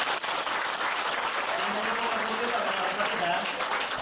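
An audience applauding at a live talk, a full, continuous burst of clapping from many hands that stays loud and even throughout.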